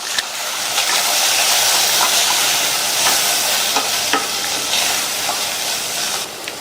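Spiced bottle gourd curry base being stirred and mixed in a hot pan after salt is added, a constant bright sizzle and hiss of frying with scattered scraping clicks from the spoon, close and steady.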